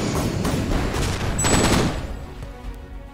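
A tank shot fired in the video game ShellShock Live, a loud blast with a rumbling, fading tail, heard alone without talk.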